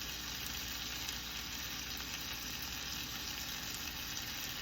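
Butter substitute sizzling in a pan while a ribeye steak cooks, a constant even hiss with no pauses or talking.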